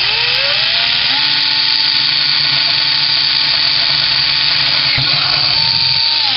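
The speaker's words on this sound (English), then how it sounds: "All you do is drill your holes." A power drill with a 21/64 bit bores holes through a plastic bucket, giving a loud, steady motor whine with a grinding rub that runs unbroken from start to finish.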